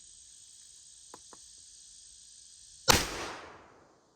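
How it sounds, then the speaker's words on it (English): A single loud rifle shot from a .45-70 hand load fired through a 22-inch barrel outdoors, cracking suddenly and then decaying, heard against steady insect buzzing after two faint clicks. "let's try 3 rounds out of the 22-inch barrel"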